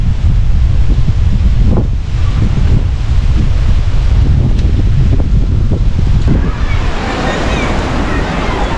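Strong wind buffeting hard and loud on the Costa Blanca coast of Spain, a constant roaring rush with gusty swells, like standing exposed in a gale.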